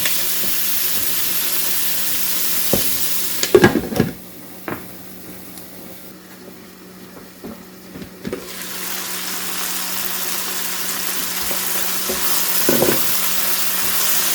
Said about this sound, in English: we're going to let the onions break down just a little further here before I add the garlic in